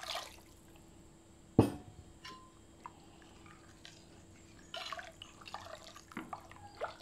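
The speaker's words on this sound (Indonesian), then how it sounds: "Kita tambahkan air," Water added to taro-flavoured bubur sum sum porridge: a sharp splash followed by scattered drips and small liquid trickles, close and quiet in an otherwise still kitchen.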